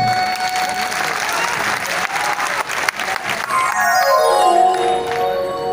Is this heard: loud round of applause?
yes